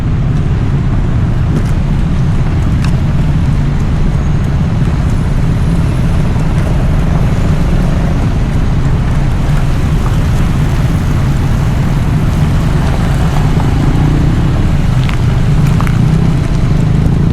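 Dense road traffic streams past near the North Portal Twin Tunnel, a constant loud rumble of cars and buses with occasional engine swells and no speech.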